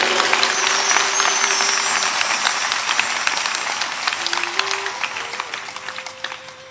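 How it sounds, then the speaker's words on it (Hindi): Applause from an audience at a devotional satsang discourse rises as a dense, loud patter of clapping and slowly thins and fades, with a sustained musical tone underneath. "ऐसी ताली बजाओगे मरी मरी।"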